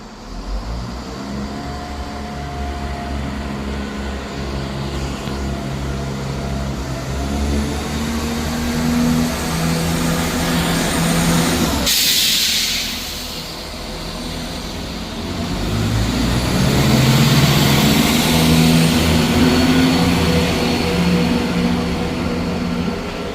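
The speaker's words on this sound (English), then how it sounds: "Departing out now is the 11:23 ScotRail service from Leven to Edinburgh Waverley." ScotRail diesel train departing Edinburgh Gateway station, a loud sustained engine roar building as it pulls away, with a sharp hiss partway through and the rumble swelling again afterward.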